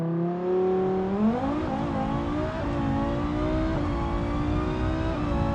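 Civetta Scintilla race car in BeamNG accelerating hard on a drag strip, the engine note climbing steadily through gear shifts in a loud, continuous rising whine and roar, no talking.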